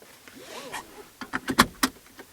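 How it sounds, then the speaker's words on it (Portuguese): Car seatbelt being pulled across and fastened inside a parked car, a soft webbing rustle followed by several sharp close clicks and clunks, the loudest latching snap near the end, with no talking. "Bom, agora vou colocar o cinto,"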